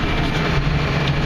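A CAT D6K2 bulldozer creeps forward, its engine a steady, loud low-pitched drone with a constant hum, continuous and close throughout.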